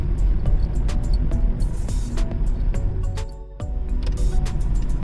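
Car approaching from the right at an Australian road intersection, a continuous engine and road rumble heard from a stopped vehicle, fairly loud and steady with no talk.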